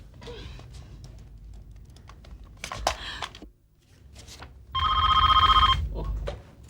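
A telephone in an office rings once near the end, a short electronic warbling ring over a low background rumble, after some faint clicks and bumps.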